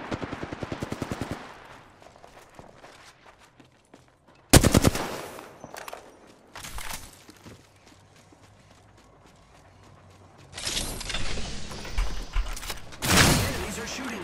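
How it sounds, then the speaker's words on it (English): Rapid video game gunfire in an Apex Legends–style shooter battle: a fast machine-gun burst at the start, then scattered loud shots and blasts with quieter stretches between, ending in dense bursts of firing. "Enemies are shooting at me."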